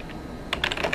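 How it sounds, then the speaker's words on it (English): Quick burst of keystrokes on a computer keyboard, close and clear, a short cluster of clicks following a brief quiet stretch. "When I'm typing in a document, the computer will read to me what I'm typing."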